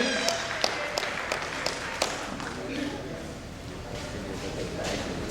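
An audience claps at an honouring ceremony in Begusarai, opening with a few sharp, distinct claps before settling into a moderate, continuous patter of applause, with someone talking over it.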